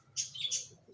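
Short pigeon calls, a couple of bright chirps close by over a low background hum.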